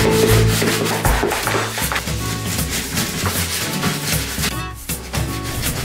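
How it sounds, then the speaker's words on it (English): A cloth quickly wipes a bathroom sink area, producing a continuous close rubbing and swishing sound with no speech. "it's gonna be just a very quick just wiping of the sink area"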